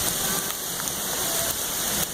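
Heavy rain pours down during a thunderstorm, a dense, steady hiss of drops hitting surfaces close by, continuous for a couple of seconds with faint irregular spatters.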